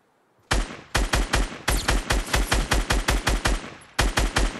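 Rapid bursts of automatic gunfire from a Fortnite Battle Royale solo match ring out loud and close after a brief quiet start, with a short pause before one more volley.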